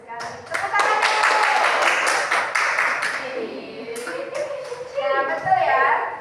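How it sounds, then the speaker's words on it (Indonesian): A classroom of children claps hands together in a lively burst of applause, with scattered taps and a voice and teacher's talk heard at the end. "Tepuk tangan."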